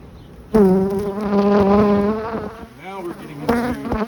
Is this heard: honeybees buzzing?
yes